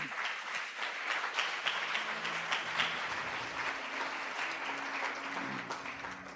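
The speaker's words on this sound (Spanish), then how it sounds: "Denle un aplauso al Señor." Church congregation clapping steadily at a Spanish-language service, a dense continuous patter of many hands with a low hum of voices and organ-like tones underneath.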